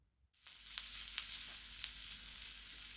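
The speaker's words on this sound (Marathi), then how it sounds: "तेल छान तापलं की आपल्याला यामध्ये 1 चमचा मोहरी टाकायची आहे." A teaspoon of mustard seeds sizzles in hot oil in a pan, a steady frying hiss with a few sharp pops as the seeds crackle, close and fairly quiet with no talking.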